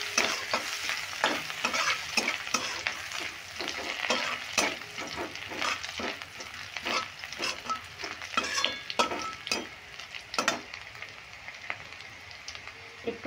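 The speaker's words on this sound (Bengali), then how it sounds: "আদা আর লঙ্কাটা একটু ভালো করে নেড়ে নেব" Chopped ginger and green chili stir-fried over medium heat for sabudana pulao, a steady sizzle punctuated by repeated sharp scrapes and clacks of a spatula against the pan, close and fairly loud with no talking.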